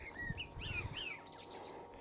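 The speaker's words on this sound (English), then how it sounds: "Can you hear the birds?" Birds chirp and sing in an English Cotswolds wood near Chedworth, a few quick bright tweets and short warbling phrases, fairly faint and at a distance, over a soft outdoor background.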